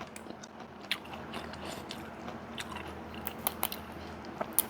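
Neem flowers eaten plain as a snack are chewed close up, giving steady crunchy bites and crackly mastication clicks repeating throughout, with no talk.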